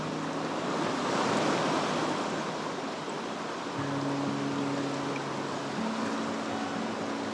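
Rapids on the Fales River near Crystal Falls, a steady roaring wash of flowing water close by, continuous and broad, with a faint low hum entering partway through.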